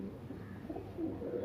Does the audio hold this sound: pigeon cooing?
yes